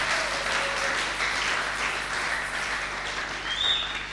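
Steady applause from a church congregation acclaiming Jesus Christ, a dense continuous wash of clapping at moderate volume, with a few faint vocal cheers mixed in.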